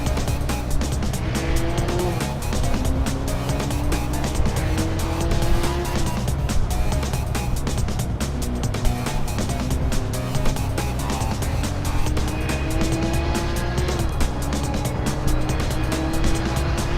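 Race cars including a Lamborghini Gallardo and a Mercedes battling on track, engines droning and shifting pitch continuously as they pass, with occasional rising whines and tire noise, loud and sustained.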